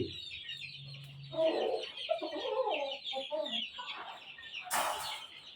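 Chickens and chicks cluck and chatter inside a chick house on a game farm, a busy close-up mix of short calls with a brief burst of flapping near the end.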